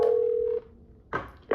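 A Cisco 8851 or 8861 IP desk phone sounds a steady electronic tone when the conference button is pressed. The tone holds for about half a second and is followed by a couple of short clicks from the handset.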